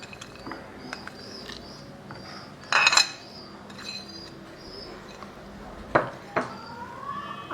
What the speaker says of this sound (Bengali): এবার আমি মাছের ডিমের মধ্যে কুচিয়ে রাখা পেঁয়াজটা দিয়ে দেব।